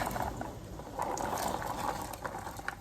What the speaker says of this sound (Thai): ตอนนี้หม้อเดือดก็ใส่ถั่วแดงลงไปเลยนะคะ